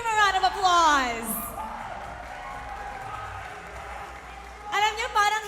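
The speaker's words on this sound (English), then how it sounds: "Let's give him a round of applause." An esports crowd at a Mobile Legends MPL Philippines match claps and cheers for several seconds between bursts of an announcer's voice, the applause fairly loud and continuous.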